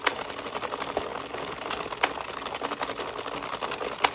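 An Addi or Sentro circular knitting machine being cranked through eight rows, a close, steady rattling clatter of needles and gears with quick rhythmic clicks, alone without talk.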